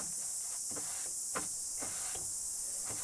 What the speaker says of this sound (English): So first of all, you need to brush your feet.